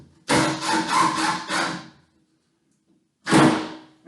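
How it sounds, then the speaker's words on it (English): A power drill drives screws into pre-drilled holes at the top of a bifold door during final installation, one long whirring burst followed by a pause and a second short burst, close and loud, with no talking. "Get my screws set here. Right into my pre-drilled holes."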